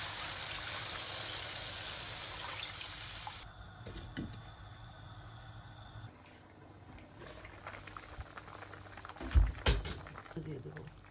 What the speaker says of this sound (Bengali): আমি এখানে জল দিয়ে দিলাম।